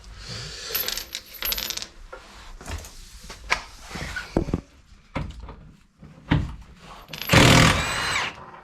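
A power tool tightens bolts on the brake of a VW Polo 6N2, with short whirring bursts, metallic clinks and rattles of loose hardware, and a longer loud grinding run near the end.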